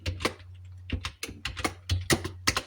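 Someone types practice words in Hindi on a computer keyboard. About a dozen crisp, close key clicks come in an uneven rhythm over a low hum, with no speech.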